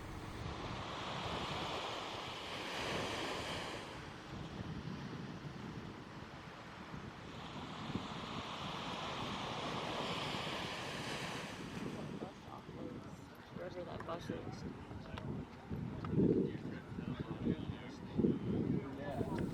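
Steady wash of surf rolling in and receding on a Cape Cod beach, with wind buffeting the microphone and a voice talking over it.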